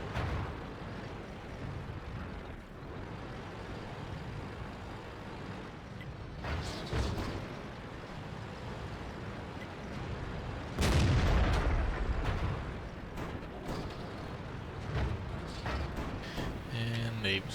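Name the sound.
tank cannon fire in video game World of Tanks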